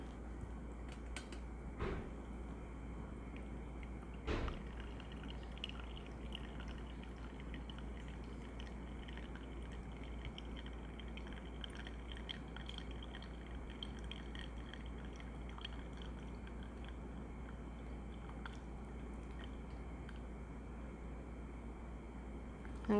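Water is poured steadily into a LilyDrip coffee dripper loaded with Community Coffee Brazil Mogiana grounds, a soft, continuous trickle over a low background hum, with a couple of brief clinks near the start.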